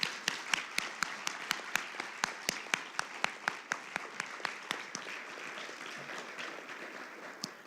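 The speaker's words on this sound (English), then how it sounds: "let's give a big round of applause to our administration for their support tonight" An audience at a university State of the University address applauds, with sharp individual claps standing out over a softer wash of clapping that thins toward the end.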